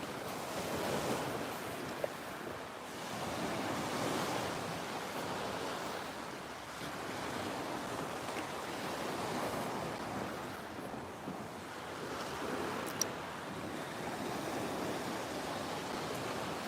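Waves break on the shore at Estepona on Spain's Costa del Sol, a steady, close rush of surf rising and falling in slow swells with light wind noise and no talking.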